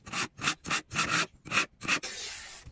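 Knife blade drawn repeatedly through a Pro Edge electric sharpener, giving about seven distinct rasping strokes in a steady rhythm, then a brief continuous grind at the end, close and clear with no talking.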